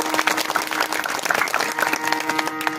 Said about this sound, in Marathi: यांच्याही नावाने एकदा टाळी वाजवा.